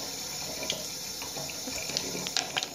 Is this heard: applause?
no